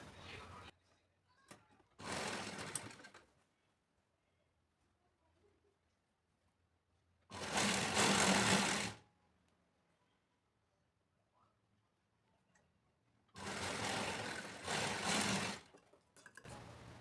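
A sewing machine stitching a lined blouse runs in three short, loud bursts of a few seconds each, separated by near silence with faint handling noises.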